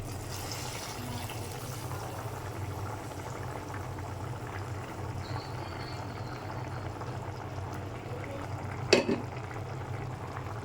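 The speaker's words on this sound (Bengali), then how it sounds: "এখন তেল ফোড়ন দিয়ে দিতেছি।" Mustard seeds tempered in hot oil for a pumpkin and potato curry with prawns make a steady, soft sizzle and bubbling, close by, with a brief utensil clatter near the end.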